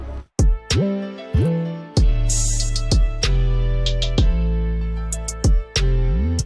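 A hip-hop beat made for auto-tuned rap plays loud and alone, with punchy bass hits and pitched synth notes that slide between steps, crisp percussive clicks marking the rhythm.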